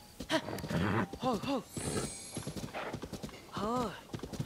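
Horse hooves clip-clop in Zelda: Tears of the Kingdom, with several short neighs and whinnies rising over the steps, mixed with someone talking close by.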